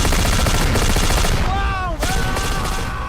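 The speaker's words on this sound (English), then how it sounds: "Gunfire and screams erupt from the first floor." Rapid bursts of gunfire in a cinematic cosmic horror scene set in Ukraine, loud and continuous, layered over a dense rumbling score with tonal swells partway through.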